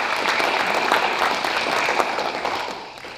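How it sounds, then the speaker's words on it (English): Audience applause at a 125th anniversary celebration over Labor Day weekend, a steady wash of many hands clapping that slowly fades toward the end. "Let us join together in expressing our heartfelt appreciation with a loud round of applause"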